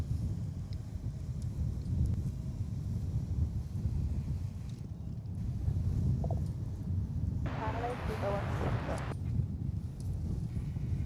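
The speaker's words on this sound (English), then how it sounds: "The relentless wind." Strong, relentless wind roars steadily across an open airfield at Dallas/Fort Worth Airport, buffeting close and loud for the whole stretch with brief gusty surges, while a voice talks over it.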